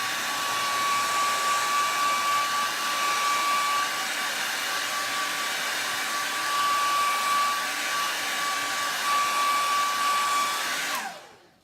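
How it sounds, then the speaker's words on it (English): A hair dryer blows steadily to dry paint on a handmade welcome sign, a loud constant whooshing airflow with a thin steady whine that runs unbroken, then cuts off abruptly at the end, with no voices. "let me blow dry that because that's what's caused some of the fuzziness"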